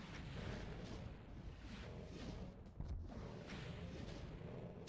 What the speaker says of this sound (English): I'll use a fucking rocket launcher on you.